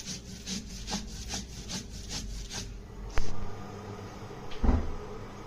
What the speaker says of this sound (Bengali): এখানে আমি কাঁচা লঙ্কা আর পোস্তটা বেটে নিচ্ছি।